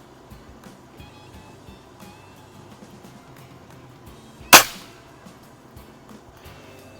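A Diana 48/52 springer air rifle fires a heavy JSB pellet, making a single sharp, close crack that stands out briefly over quiet outdoor background noise.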